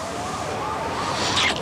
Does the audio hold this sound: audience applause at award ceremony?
no